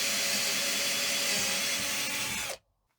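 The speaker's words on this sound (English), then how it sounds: "Let's drill a hole here and see if we can find a stud here." A power drill bores into a storeroom wall while searching for a stud, one steady loud whirring run of about two and a half seconds that cuts off abruptly into near silence.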